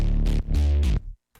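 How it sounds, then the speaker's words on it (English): A pluck bass synth patch built in Serum, remaking the sound from a song, plays a few short, punchy low notes in quick succession, each with a bright attack that decays quickly, ending in silence. "It's a cool little pluck bass."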